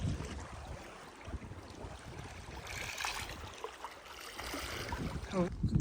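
Gentle sea waves lapping around a kayak off the Finnish coast, a steady faint wash of water with soft splashes, without talk.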